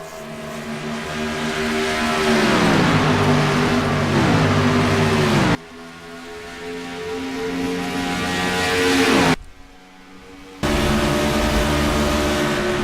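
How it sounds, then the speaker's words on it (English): Race car engine in a racing game on the rough Charlotte track, a loud sustained drone that climbs and drops through gear changes, cutting off abruptly twice as the car bounces around. "you can hear that car bouncing around"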